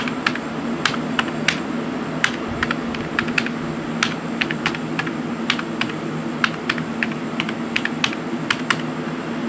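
Typing one-handed on an iMac G3 keyboard: a steady stream of uneven, close key clicks over a constant low hum, with no voices.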